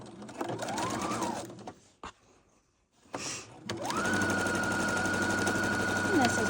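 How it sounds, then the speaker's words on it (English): A sewing machine runs in bursts while stitching up the sides of a simple unlined tote bag, with a rapid close mechanical whir that pauses briefly and then runs steadily; a voice talks over the start. "And take it over to your sewing machine."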